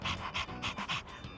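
A dog pants in Persona 3 Reload, quick rhythmic breathy huffs repeating about every third of a second, close and clear with no talk.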